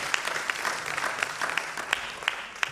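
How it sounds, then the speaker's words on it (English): An audience at a biomedical research conference claps in a steady patter of scattered hand claps with a few sharper individual claps standing out. "I believe we should clap for ourselves."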